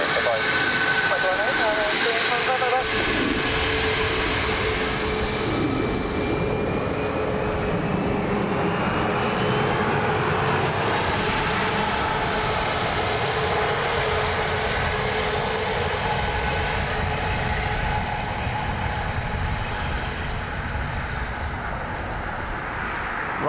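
A Ryanair jet arriving from Amsterdam lands on runway 28 left at Dublin Airport, its engine roar sustained and broad for over twenty seconds, with an engine whine sweeping upward partway through and faint voices in the background.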